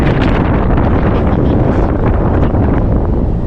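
Strong, steady wind buffeting the microphone with a dense low roar throughout, no pauses or other sounds standing out.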